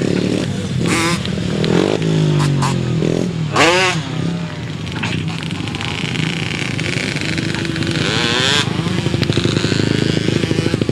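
Grasstrack racing motorcycles ride a slow lap of honour. Engines rev and drone past at close range with rising and falling pitch, and a public-address voice runs over the noise.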